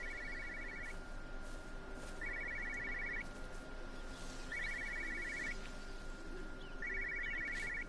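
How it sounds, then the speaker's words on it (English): Repeated telephone rings from a phone hidden in bushes in the video game Everybody's Gone to the Rapture: four separate bursts of ringing spaced a couple of seconds apart, over a steady outdoor ambience with faint birdlike chirps. "There's a phone in the bushes."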